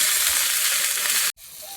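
Masala spices fry and get stirred in oil, making a loud, dense, hissing sizzle heard up close that cuts out sharply for a moment before resuming a little quieter.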